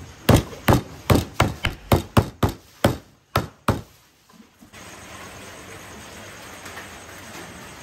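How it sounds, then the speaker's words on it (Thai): Onions are pounded in a mortar with a pestle for a Lao fish curry, about a dozen loud rhythmic thuds at a steady pace that slow and stop, followed by a quieter hiss of background noise. "ตำหัวหอมจ้ะหัวหอมจะบักเผ็ดนะบักพริกจะไม่ได้ตำแรงนะ"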